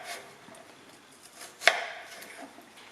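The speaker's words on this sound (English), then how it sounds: "I have cut the potatoes into nice, rather thin slices, about 2 to 3 millimeters" A knife cutting potatoes into thin slices of about 2 to 3 millimetres on a board, heard as quiet, sparse taps with a single sharp chop near the middle.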